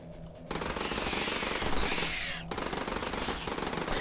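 Enemy gunfire rattles in rapid automatic bursts during a wave battle against spiders in the video game Dropship Down, loud and close, with a brief pause before firing resumes.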